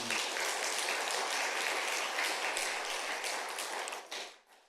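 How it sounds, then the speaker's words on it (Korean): A church congregation applauds in a worship service, with dense, lively clapping that stays strong for several seconds and then thins out and fades away at the end. "우리 감사의 박수 한번 보내겠습니다"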